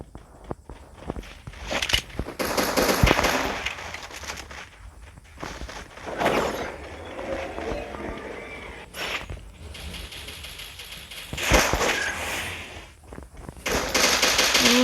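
Gunfire in the mobile battle game Free Fire during a 4v4 match: repeated bursts of rapid automatic shots and single cracks, some close and loud, others quieter, spread across the stretch with footstep-like shuffling between volleys.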